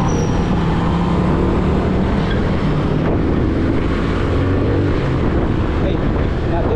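A motorcycle rides through Mandaluyong city traffic toward Balintawak, its engine and wind noise forming a continuous loud rumble with passing vehicle sounds and some talk mixed in.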